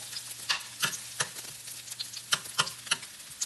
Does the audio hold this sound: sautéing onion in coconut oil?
yes